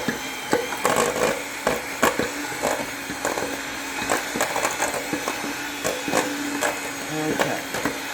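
Cookie dough being mixed by hand in a bowl in a home kitchen, with vanilla just added to the wet ingredients: steady scraping and knocking of a utensil against the bowl, close and continuous, with no talk.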